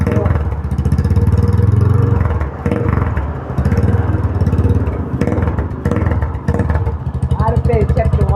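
Yamaha Scorpio Z motorcycle with a loud aftermarket exhaust revving close by in a workshop, throaty throttle blips rising and falling repeatedly while people talk over it.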